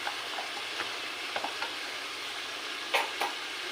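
Sliced onions go into meat frying in a pan for a slow-cooked Bengali mangsho, raising a soft, continuous sizzle broken by a few quiet stirring scrapes and clinks.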